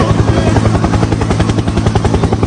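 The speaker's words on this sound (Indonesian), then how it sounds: "Helikopter, helikopter." A helicopter thunders loud and close, its rotor chopping in a rapid, even thumping pulse with a turbine whine throughout, with no voices.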